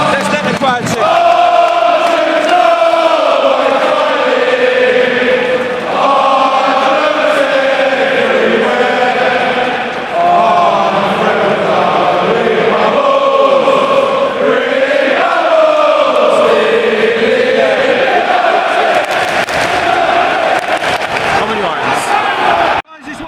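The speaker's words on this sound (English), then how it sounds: "Let's let the crowd sing." Football fans chant and sing in a loud, sustained mass at West Ham's Upton Park during a home match against Spurs under floodlights, the roar filling the stadium with steady rhythmic swells.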